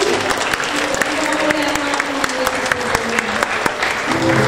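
Church congregation at a year-end worship service clapping, a loud dense wash of applause with sharp claps standing out, while a voice speaks and tones sound over it.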